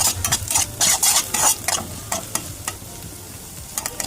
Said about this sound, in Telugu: ఇప్పుడు మనం దీన్ని కొంచెం ఫ్రై చేసుకుంటాం హై ఫ్లేమ్లో పెట్టుకొని